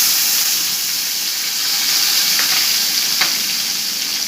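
Cumin seeds and bay leaf fry in hot oil in a pan, a loud continuous hiss and crackle with a couple of faint clicks, close by and unbroken by speech.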